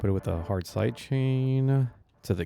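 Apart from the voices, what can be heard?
No everyday noise stands out behind the speech.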